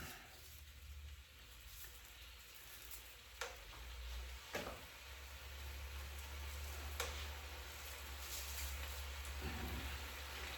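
Cabbage ribbons fry in a skillet with a steady, faint sizzle, broken by a few light clicks and taps from nearby utensils. A low hum runs underneath, and no one speaks.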